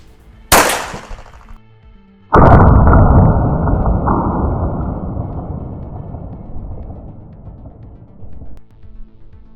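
A homemade Thai gun loaded with a rubber bullet gives a sharp crack, then after a pause a loud, broad blast that slowly fades over several seconds.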